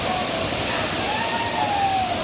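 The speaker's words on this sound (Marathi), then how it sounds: "खूप वरनं पाणी पडतं बघा." Water from the Savdav waterfall near Kankavli drops from a great height, making a steady, unbroken rushing roar that stays close and even throughout, with a faint thin whistle over it.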